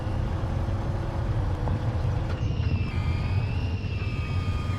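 A steady, droning heavy engine of a modded 8x8 truck in the game MudRunner, with a rough low rumble, its whine shifting pitch partway through as if revving or changing gear.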